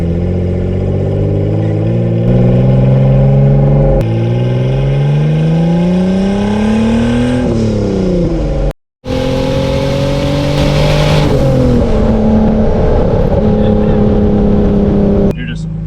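A loud hot rod at a drag-racing event revs hard and roars past close by, its engine pitch climbing and falling through repeated bursts, with people talking over the noise.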